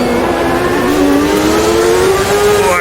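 Race car engines in a CART racing video game scream continuously while chasing a Team Penske car, the pitch climbing steadily as the car accelerates, loud and close with no talk.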